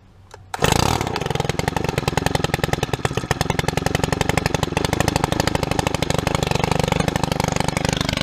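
A gas string trimmer or leaf blower engine cold-starts on the first pull, a brief pull followed by the small two-stroke settling into a loud, steady, rapid buzzing idle right up close.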